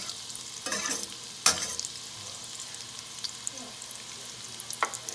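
Garlic sizzling softly in a pan for shrimp scampi, with a few sharp spoon clinks and stirring scrapes over a quiet, steady frying hiss, and no talking.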